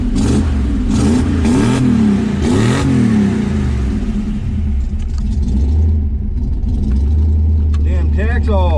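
A Dart GT 273 V8 runs after its first cold start in a yard following about fifteen minutes of warm-up: a loud, steady, close idle rumble with rising and falling revs, while people talk over it.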